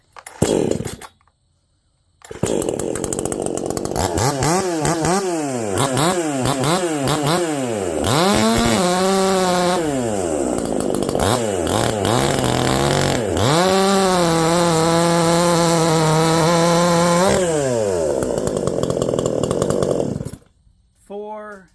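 A chainsaw running .325 chain in a cutting test of Proyama PCS68, Husqvarna C33 and Stihl 23RS chains starts with a brief rev, then bogs and rises repeatedly as it bites into wood in a long loud cut before dropping off.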